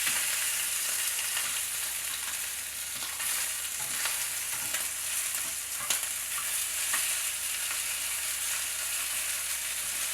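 Chicken thighs fry in a pan with a steady, dense sizzle and crackle, occasional stirring or turning noises, close and continuous without talk.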